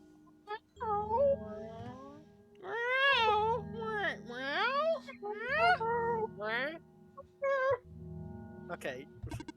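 A voice imitates confused cat noises, a close run of drawn-out, wavering meow-like yowls that rise and fall in pitch, separated by short pauses over a low steady hum.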